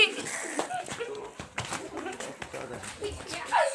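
Yellow-eyed white Amej pigeons coo softly in short low murmurs, close by, with a person talking over them and faint rustling around.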